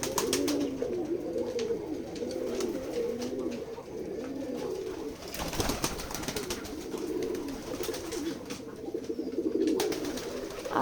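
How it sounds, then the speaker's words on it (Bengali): Pigeons at a village loft in Keshabpur, Jessore, coo in repeated low rolling phrases that run steadily and close, with a brief rustle or flap midway. "আশা করি আপনারা আমাদের কাছ থেকে কবুতরগুলো নিতে চান, নিবেন।"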